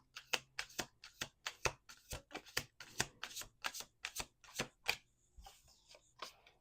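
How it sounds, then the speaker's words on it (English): Rapid riffling card shuffles, a dozen or more quick crisp bursts in steady succession, close and clear with no talking. "We're going to do 2 more shuffles."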